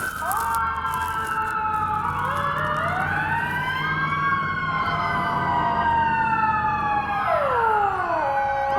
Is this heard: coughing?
no